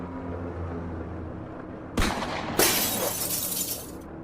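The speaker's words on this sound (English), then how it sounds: "He fired at the top of the glass, shattering it completely." A gunshot shatters a pane of glass: a sharp crack bursts out, then a second loud crash of breaking glass follows with a spray of tinkling shards fading away over a low rumbling background.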